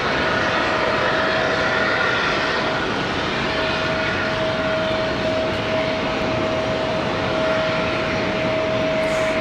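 A Republic Airways airliner arriving at Raleigh Durham airport from Chicago O'Hare, a continuous loud engine roar with a steady high whine held through the pass.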